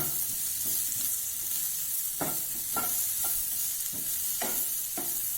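Capsicum and boiled egg stir-fried in a pan over a medium flame, giving a constant loud sizzle broken by repeated spatula scrapes and knocks at an uneven rhythm.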